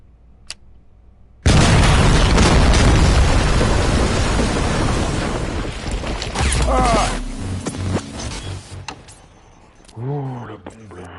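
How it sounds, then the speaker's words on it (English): A bomb goes off in Robocop Rogue City with a sudden, massive blast that becomes a long, loud rumbling roar, slowly fading over several seconds before a voice is heard near the end. "Oh la bombe là, elle me pétait 100 fois la gueule"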